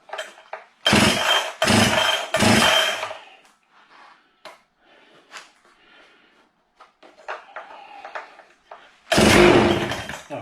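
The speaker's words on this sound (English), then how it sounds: "And now I'm going to give it like 3 quick pulls and try to get it started." Husqvarna chainsaw being pull-started, three quick loud rasping recoil-cord pulls in a row, then quiet handling clatter, and a final pull as the engine briefly sputters, all close by without talk.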